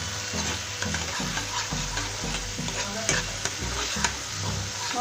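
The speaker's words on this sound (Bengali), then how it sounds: "মশলাটাকে ভালো করে কষিয়ে নিতে হবে" Masala spices with tomato sauce and ground cumin fry and get stirred in a pan for a Bengali-style pomfret curry. A steady sizzle runs throughout, broken by repeated scraping strokes of the spoon at a regular rhythm, close and without any talk.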